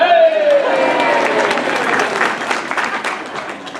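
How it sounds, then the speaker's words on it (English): Audience applause at a school district event honoring an educator, a steady wash of clapping from a crowd for several seconds, with a voice briefly heard over the start. "Yeah, round of applause."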